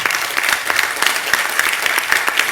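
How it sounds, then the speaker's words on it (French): Brief burst of audience applause at a French-language business talk, close and fairly loud, with rhythmic overlapping claps and no voices over it. "Je vous demande de vous applaudir, d'applaudir tout le monde."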